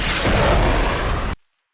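Missile fire and explosion from the Tears of the Sun film scene, with AIM-7 missiles launched and detonating: one loud, dense blast of roaring noise held for over a second, then cut off abruptly into silence.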